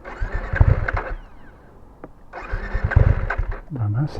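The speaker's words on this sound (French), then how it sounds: "est-ce que elle ne peut pas démarrer parce que j'ai une vitesse engagée?" A motorcycle stalls and is cranked repeatedly without catching on a ride through rural northern France, two rough starter-and-engine bursts of about a second each, close and loud, with a short pause between them and a voice sounding near the end.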